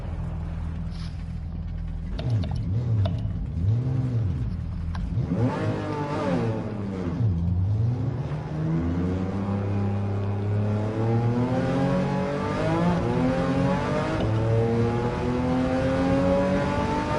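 A 1966 Volkswagen Beetle with a swapped engine in Gran Turismo 7, revving hard with rising and falling pitch through gear changes, then a sustained high climbing engine note under acceleration, steady and prominent.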